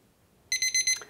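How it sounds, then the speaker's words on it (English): A kitchen timer goes off with four quick, shrill electronic beeps in a row, loud and close, after a moment of near silence. "All right, there's our timer."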